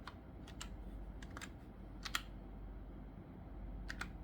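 Typing on a computer keyboard to enter login details for a D-Link DSL-2750U modem interface, a handful of quiet, close key clicks in short irregular bursts over a low room hum.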